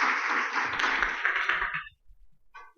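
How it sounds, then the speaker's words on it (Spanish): An audience at a medical lecture on hip prosthesis applauds a speaker, a dense burst of clapping that fades out after about two seconds, followed by a faint tap. "Le damos un aplauso, por favor."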